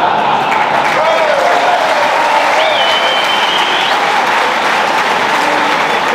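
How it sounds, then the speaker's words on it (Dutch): Dutch comedy audience applauding steadily and loudly for the full stretch, a dense wash of clapping with faint crowd murmur and a voice briefly audible over it. "Ja, jullie klapt allemaal mooi."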